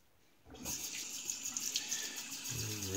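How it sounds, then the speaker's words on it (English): Tap water runs steadily into a sink while a vintage Dime safety razor is rinsed, starting abruptly after a brief quiet moment and continuing as a close, even splashing stream. "And rinse it out clean."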